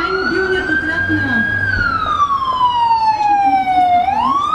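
Emergency ambulance siren arriving at a road traffic accident scene, a loud, continuous wailing tone that sweeps slowly down and back up in pitch, close and dominant over a faint background of voices.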